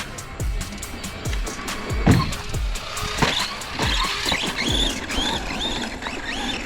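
A Traxxas Rustler 4x4 brushless RC truck whines and revs as it drives, its rising and falling motor pitch sweeping past over crunching, skidding tires and scattered knocks, loud and close.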